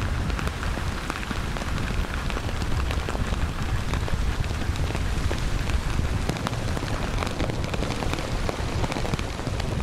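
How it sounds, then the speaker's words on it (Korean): Heavy rain lashes steadily and loudly at sea during a night watch on a yacht caught in a monsoon front with strong wind, a dense continuous downpour with scattered drops striking close by. "요트 크루들은 교대로 당직을 서며 세찬 비바람과 맞서야 했다."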